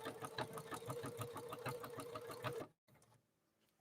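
A Necchi NE30 sewing machine runs a crescent stitch with a fast, steady mechanical chatter. The sound is close and continuous for about two and a half seconds, then cuts off into near silence.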